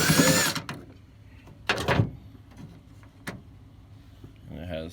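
A power tool buzzes in short bursts while taking a bolt off the tailgate of a 2012 Ford F250, close and loud between quieter gaps, with someone talking at the end.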